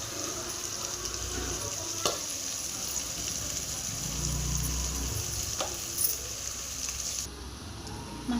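Vegetable rice with garam masala, chilli powder and coriander powder frying in a pan makes a continuous loud sizzle, with occasional scrapes of stirring and a brief louder surge midway, and nobody speaks.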